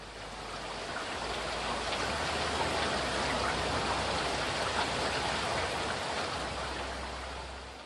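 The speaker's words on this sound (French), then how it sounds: "La pluie ruisselle et gonfle les rivières." Steady rain falls in a dense, even hiss that runs without a break, moderately quiet, with no voices.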